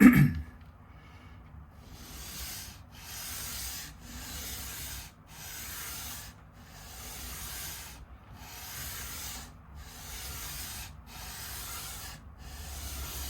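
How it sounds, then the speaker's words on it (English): Worn, heavy-duty 80-grit sandpaper rubbing on a Squier Affinity Stratocaster during a setup: about ten steady back-and-forth strokes, each a close, soft, hissing rasp with short pauses between them and no talking. "Now this, the heavy duty 80 grit stuff, is a fairly worn, so it's not cutting at a massive amount"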